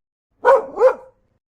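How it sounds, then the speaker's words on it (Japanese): A dog gives two quick, close barks in a row, loud and clear against silence, each a short sharp bow-wow. "犬、"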